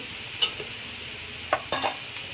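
Onions frying in a pan for egg rice give a steady, quiet sizzle, with a few sharp scrapes of a spoon stirring them near the end.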